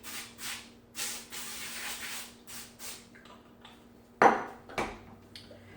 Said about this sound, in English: I'm going to give it a spray with olive oil spray